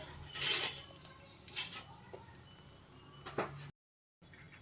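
Metal forks clink and scrape against a frying pan while turning jangri frying in oil, with a few bright, brief clatters over a steady sizzle.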